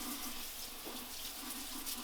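A Breville juicer's strainer is rinsed under a running kitchen tap, a steady close hiss and splash of water striking the mesh and sink for a couple of seconds, with no talking.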